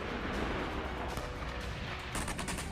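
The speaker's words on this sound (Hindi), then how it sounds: "इतने धमाके हो रहे हैं कि गिनना मुश्किल हो रहा है।" Rapid, overlapping blasts and gunfire-like cracks from artillery and rocket fire in the Marinka area of the Ukraine war. They form a dense, continuous rumble with sharper bursts near the end, and no voices are heard.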